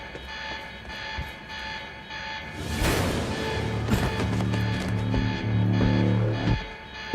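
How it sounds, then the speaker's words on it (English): Facility alarm in the video game Quantum Break, a steady ringing tone that keeps going the whole time, joined partway through by a louder burst of noise and some clanking, moderately loud and with no speech. "The alarm must have locked everything down."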